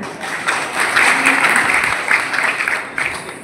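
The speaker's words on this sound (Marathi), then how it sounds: "त्यांच्यासाठी जोरदार टाळ्या" A crowd at a ceremony honouring saints in Nandura gives loud, sustained applause for several seconds, a dense, even clapping that tapers off at the end.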